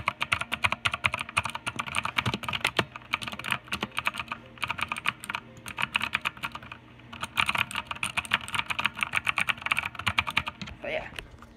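Rapid, clicky keystrokes on a PICTEK mechanical gaming keyboard, continuous and close, with a person's voice speaking over the typing.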